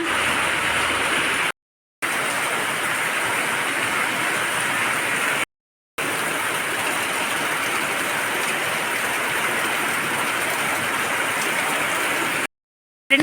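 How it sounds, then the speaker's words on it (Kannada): Steady broadband hiss of heavy monsoon rain, continuous and even, broken by short silent gaps, no voices. "ಜೋರು ಮಳೆ ಅಲ್ಲನಾ"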